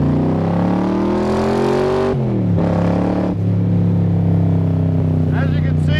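A 1965 Shelby Cobra replica, a Superformance MkI, pulls hard from inside the cabin, its engine note climbing steadily, dropping at a gear change, then rising again as a loud, droning roar throughout.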